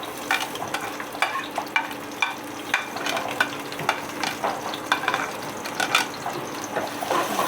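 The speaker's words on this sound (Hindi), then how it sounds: "ये हमने डाल दिया ज़ीरा, और डालेंगे इसमें हम प्याज" Cumin and onions frying in a pan, a steady soft sizzle with frequent scraping and clinking as the mixture is stirred, fairly quiet and close with no voices.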